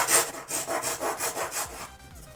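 A square file deburring holes in a clock case rasps in quick, even back-and-forth strokes, about six close, crisp scrapes heard alone before it stops.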